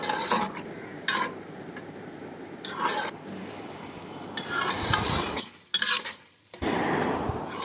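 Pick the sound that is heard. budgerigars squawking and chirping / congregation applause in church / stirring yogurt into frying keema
stirring yogurt into frying keema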